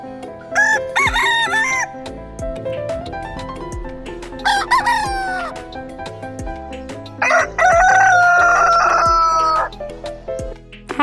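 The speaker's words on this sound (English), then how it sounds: "H, H for hen." A rooster crows a few times, each a loud, drawn-out cock-a-doodle-doo with brief gaps between, over a bouncy musical backing, with no talking.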